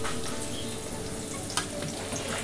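Sliced bitter gourd fries in a pan over a home kitchen fire, giving a steady, close crackling sizzle that runs the whole time with one brief sharper spatter partway through.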